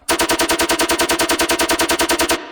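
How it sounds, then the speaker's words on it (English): Rapid-fire synthetic zaps repeating in a fast, even rhythm, about twenty pulses in a burst, loud and bright, ending abruptly. "And then we have these lasers"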